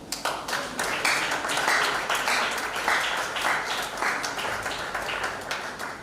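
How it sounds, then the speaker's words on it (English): A hall of attendees at a Nigerian Export Promotion Council event in Cross River State applauds the government, with steady, dense clapping that holds for several seconds alongside a murmur of crowd noise. "Let me pause here and expect this hall to applaud our government."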